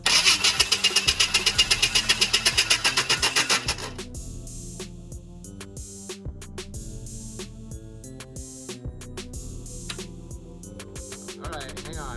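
A 4.3 V6 engine in an S10 pickup cranks on its starter with a fast, rhythmic whirring chug for about four seconds, then settles into a slower, uneven low rumbling turnover with irregular knocks.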